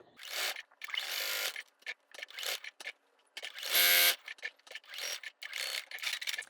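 A sewing machine runs a straight stitch along the handle of a tote bag made from a vintage quilt and denim, whirring mechanically in short bursts separated by brief pauses.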